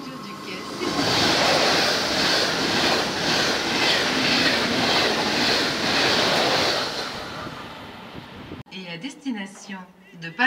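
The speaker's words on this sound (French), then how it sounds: "attention au passage d'un train" A train rushes through a station platform at Les Arcs-Draguignan with a loud, sustained roar and rhythmic wheel clatter for about eight seconds, then cuts off abruptly as a public-address voice begins speaking.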